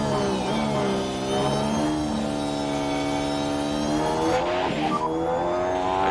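Formula 1 race car engines in the F1 Manager 23 video game, a continuous high-pitched whine rising and falling through gear changes, with several cars layered together at close range, loud and sustained throughout without any talk.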